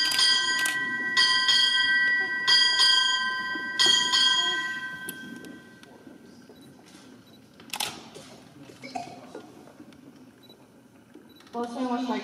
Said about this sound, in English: Boatswain will strike eight bells.